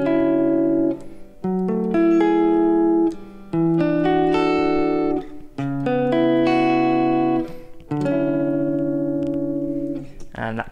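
Lush neo soul extended chords played on a keyboard, several sustained voicings in sequence with brief gaps, warm and close with a smooth soulful color.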